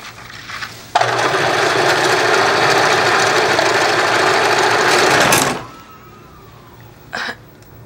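A home sewing machine runs loud and steady in a basement workshop for about four seconds, a continuous motor whir that starts abruptly and cuts off, followed by quieter room sound and a brief clatter.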